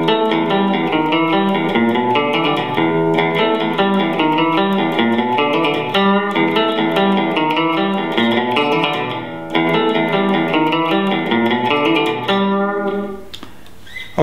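Distorted electric guitar plays the main riff of a song, a dense repeating rock figure with effects, loud and continuous before ringing off near the end.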